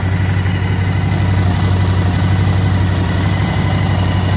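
A Suzuki V-Strom DL1000 motorcycle engine idles close by with a steady, even low rumble, settling at normal idle after an erratic idle fault, heard alone with no talking.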